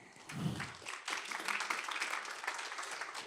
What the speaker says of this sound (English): So, warm round of applause for you, and thank you for this overview.